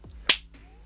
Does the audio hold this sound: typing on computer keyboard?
no